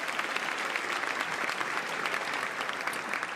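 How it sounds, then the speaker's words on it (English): A crowd applauds Philadelphia's City Council President at a mayoral inauguration ceremony: steady, dense clapping held for several seconds, at moderate distance and without pauses. "Give our Council President a huge round of applause."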